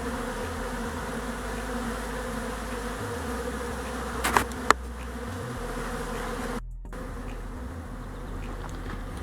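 A dense, steady hum of honey bees buzzing at a hive during a heavy pollen flow, loud and close, continuing without speech throughout.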